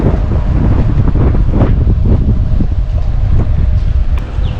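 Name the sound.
strong wind blowing at the shore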